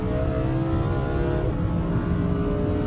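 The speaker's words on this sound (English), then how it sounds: "Oh, that Lambo does sound nice." A Lamborghini engine revs steadily on the Isle of Man TT mountain course, a dense, sustained roar with a droning tonal whine, close and continuous without any talk.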